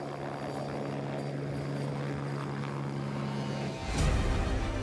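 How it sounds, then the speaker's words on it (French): Helicopter flying overhead on a maritime fire-support and surveillance patrol: a steady, droning rotor and engine roar with a low hum that holds throughout and swells louder near the end. "des hélicoptères assurent l'appui-feu et la surveillance aérienne"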